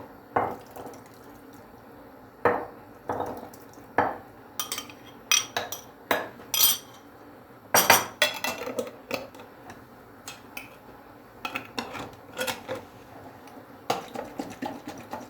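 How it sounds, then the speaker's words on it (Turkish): A spoon stirs kebab mixture with tomato sauce and water in a pot, giving sharp metallic clinks and scrapes in irregular bursts, close up with quiet pauses between. "Böyle de karıştıralım tekrar"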